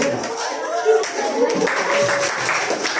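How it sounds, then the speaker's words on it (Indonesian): A primary school maths class gives a brief round of clapping, moderately loud and scattered. Children's voices and a teacher's speech mix in with it. "bagi tepukan"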